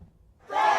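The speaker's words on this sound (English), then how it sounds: "A crowd of Hollywood writers burst into celebration as word spreads of a tentative agreement with the major studios" A crowd of striking Hollywood writers erupts into cheering, a sudden loud swell of voices that begins after a brief quiet moment.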